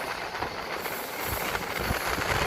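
Siddheshwar Express passenger train running at speed, up to 130 km/h, near a tunnel: a steady, loud, close rumble and rush of wheels on rail with faint rhythmic clatter throughout, no voices.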